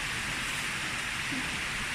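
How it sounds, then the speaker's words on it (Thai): Steady rain falls in a dense, even hiss, continuous and moderately loud with no pauses or voices. "ฝนตกนะคะตอนนี้"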